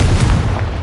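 A Confringo blasting spell from the Hogwarts Legacy video game goes off as a loud, close, rumbling explosive burst, a dense low boom that fills the moment without letup and with no voices over it.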